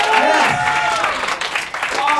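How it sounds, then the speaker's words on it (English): Audience at a live comedy show in Shanghai claps and cheers, a dense burst of applause mixed with whoops while a voice talks over it. "Give yourselves a big round of applause"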